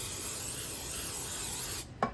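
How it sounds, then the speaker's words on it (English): Nonstick cooking spray hisses steadily from an aerosol can onto an 8x8 square baking pan for nearly two seconds, then cuts off with a brief soft tap. "just making sure that you are covering the pan evenly with cooking spray"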